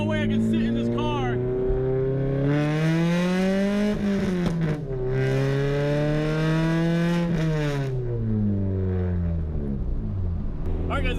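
An SR20-swapped Nissan Sentra SE-R rips through the gears, its loud engine note rising in pitch, dropping at each shift and climbing again, heard from inside the car with a voice partly over it.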